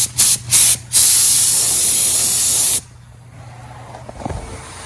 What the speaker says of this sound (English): I'm about to mix some paint and just shoot some single stage black over all the chrome pieces.